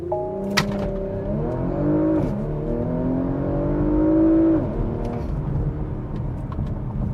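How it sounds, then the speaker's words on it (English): Porsche Macan Turbo SUV in Sport Plus with the sport exhaust open, launching hard: a loud, close engine roar rising through the revs with a brief upshift dip, then continuing to pull strongly, no talking. "I'm gonna go in Sport Plus. I'm gonna turn my exhaust on"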